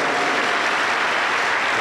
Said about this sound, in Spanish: Ese aplauso para Cristo Jesús.